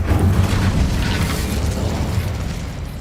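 Incendio fire spell cast in the Hogwarts Legacy video game, a loud continuous whooshing roar of flame that holds strong throughout and eases slightly toward the end.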